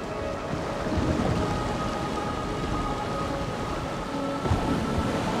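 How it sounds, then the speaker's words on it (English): Heavy rain pours steadily, with low rumbles of thunder rolling through beneath the downpour, building briefly near the end; no voices. "rain descended from the heavens"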